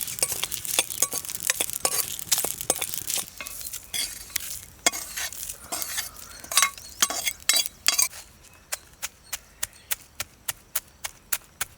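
Spices, poppy seeds and coconut powder dry-roasting in a pan, with a dense run of scraping stirs and clinks that gives way to a steady, evenly spaced tapping near the end.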